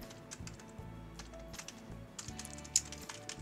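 Soft, quick keystrokes on a computer keyboard tap in a steady, uneven patter, close and fairly quiet, with no talking.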